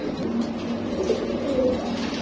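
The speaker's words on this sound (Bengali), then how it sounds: "এখানে আরো একটা আমরা কবুতর দেখতে পাচ্ছি" Pigeons coo in low, soft, repeated murmurs, steady and close, with no talking.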